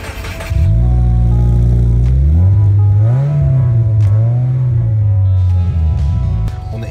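A 2023 Subaru WRX fitted with STI performance mufflers starts up, its engine catching with a loud burst, then rising briefly and settling into a deep, steady, close idle rumble that wavers slightly in pitch.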